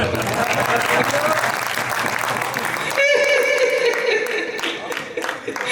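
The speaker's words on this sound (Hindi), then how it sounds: "तालियां बजाओ, तालियां बजाओ" An audience at a journalists' council poetry gathering (kavi sammelan) in Paota claps loudly and continuously; partway through, a voice rises over the ongoing applause.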